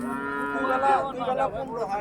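A dairy cow at a rural cattle market gives one close, loud, drawn-out moo that wavers in pitch across about two seconds, with no talking.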